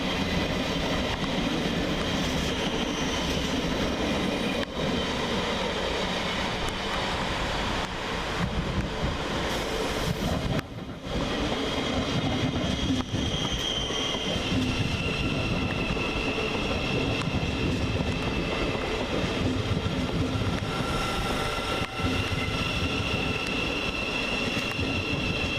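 Govia Thameslink Class 700 electric train arriving at Luton railway station, a continuous rumbling roll with wheel noise and faint squeals, sustained and fairly loud throughout.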